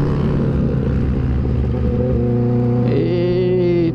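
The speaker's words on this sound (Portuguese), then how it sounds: "Só curtir o ronco da moto" A Honda Hornet motorcycle engine roars loud and close, its steady rumbling note shifting as the rider downshifts, with the pitch climbing into a sharper rev near the end.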